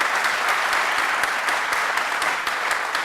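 An audience applauds a guest speaker's introduction at the Clinton School, with steady dense clapping throughout and no voices over it.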